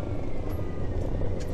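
Tucker Trail Boss snowcat engine droning steadily close by as it shifts up to fourth gear, a continuous low mechanical rumble with no distinct break.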